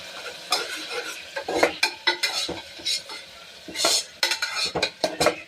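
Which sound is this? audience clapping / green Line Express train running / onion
onion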